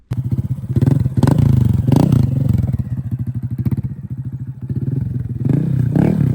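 A Honda Grom motorcycle engine revs loudly up close, its note climbing and falling in repeated bursts with some mechanical clatter mixed in.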